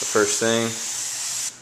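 A spray bottle of window-tint solution mists onto window glass: one steady, close hiss lasting about a second, right after a short spoken phrase.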